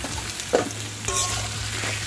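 Kajal gouri fish curry is stir-fried in a pan, a close sizzle with scraping stirs and a couple of sharper clatters against the pan.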